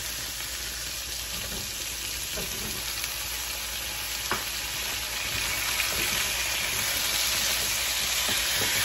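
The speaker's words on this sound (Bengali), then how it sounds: "এই সমস্ত সবজিগুলি আমি একটু দুই তিন মিনিট ভালো মতো কষিয়ে নিব।" Mixed winter vegetables, including papaya, sauté in a pan for labra with a continuous close sizzle and occasional scraping stir clicks, no voices.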